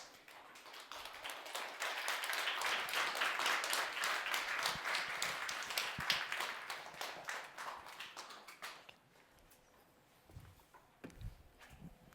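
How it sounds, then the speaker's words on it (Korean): A church congregation claps to welcome the district superintendent as he comes forward, dense steady applause building over several seconds, then thinning into scattered claps and quiet near the end. "나오실 때 여러분들 큰 박수로 환영해 주시기를 부탁드립니다"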